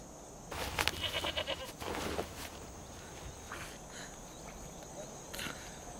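Sheep being slaughtered outdoors among the Hamar in Ethiopia, with a few strained bleats and bursts of animal noise early on, then quieter rustling and faint movement against a steady cricket-like hiss.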